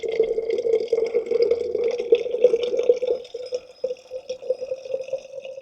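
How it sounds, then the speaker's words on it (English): A steady stream of water from a water fountain runs into a water bottle, the pitch holding level with slight gurgling and fluctuation as it fills. "you're going to want to put your water bottle on the edge"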